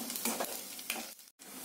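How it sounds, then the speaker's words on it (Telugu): Urad dal, chana dal and garlic cloves fry in a pan as they are stirred, giving a soft, close sizzle with a brief break near the end. "పోపులు వేగాయి కదా ఫ్రెండ్స్"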